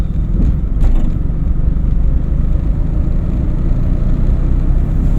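A car pulling away during a driving lesson: a steady loud low engine rumble throughout, close and continuous, with a faint brief click early on and no voices.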